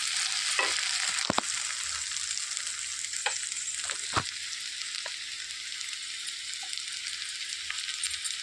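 Ivy gourd fry sizzling in a pan after fresh grated coconut is added, a steady bright frying hiss with a few sharp clinks of a spoon stirring against the pan, no voices.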